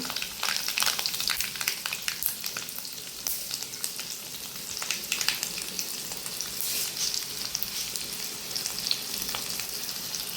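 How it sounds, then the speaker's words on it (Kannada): Garlic sizzles in hot oil in a pan, a steady close frying hiss scattered with small crackles and pops that carries on evenly throughout, with no voices. "ಬೆಳ್ಳುಳ್ಳಿ ಹಾಕಿದ್ದೇನೆ"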